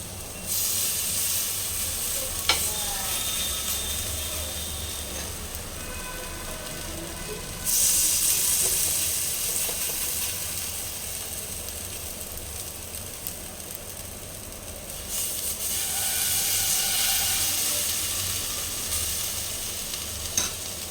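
Small portions of batter sizzle and spit in hot oil for breakfast, a steady close frying hiss that swells louder as more pieces go in, alone without voices.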